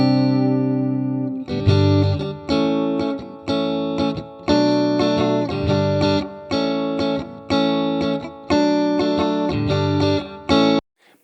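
A Fender Stratocaster electric guitar played through a Fender amp with reverb rings out in strummed chords, about a dozen strong rhythmic strikes each sustaining briefly before the next, loud and clear with no talking.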